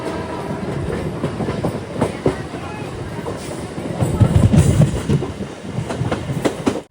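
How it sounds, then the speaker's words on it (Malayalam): A freight train loaded with new cars passes close by with a rhythmic clickety-clack of wheels and a rumbling rattle that swells midway, heard from a nearby train, with voices faintly underneath. "പുതിയ കാറുകളൊക്കെ പല സ്ഥലങ്ങളിലേക്ക് കൊണ്ടുപോകുന്ന ട്രെയിനാണ്"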